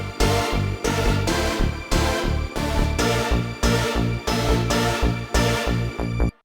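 Stacked synth layers in an electronic track play together: big stepped chords over a pulsing bass, loud and dense with a steady repeating rhythm and no voices.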